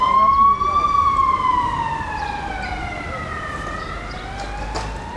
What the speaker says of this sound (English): Oh, it's an ambulance.